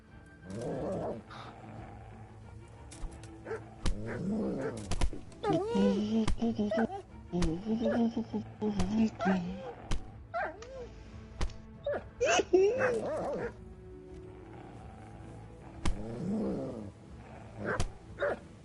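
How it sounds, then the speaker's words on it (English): Several dogs bark and yelp repeatedly in bursts, some close and some farther off, mixed with growling and a voice talking over the noise. "That sounds like there's more than one dog."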